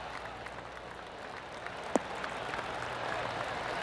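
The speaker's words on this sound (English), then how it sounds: "Oh, golf clap." A crowd watching golf on PGA Tour 2K23 gives a soft, polite spatter of clapping, faint and diffuse against a low ambient murmur, with one sharp louder clap standing out midway.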